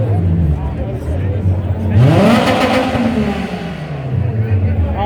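A Honda drag car at a drag strip launches and revs hard, its engine note rising and sweeping upward as it pulls away, loud and close over crowd and idling engines, with people talking nearby.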